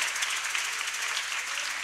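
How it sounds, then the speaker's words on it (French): An audience claps and cheers in a dense, even burst of applause that stays at a steady, fairly loud level for the whole short stretch, with no speaking over it. "Est-ce que vous me soutenez avec les acclamations?"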